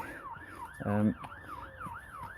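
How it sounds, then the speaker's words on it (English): Emergency vehicle siren wailing in a steady rising-and-falling cycle, moderately loud and passing nearby an allotment garden, briefly overlaid by a short loud buzzing burst in the middle. "Oh, and there's a nice siren."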